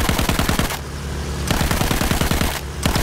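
A mounted machine gun in Battlefield 1 fires loud, rapid bursts, with two short pauses between the strings of shots.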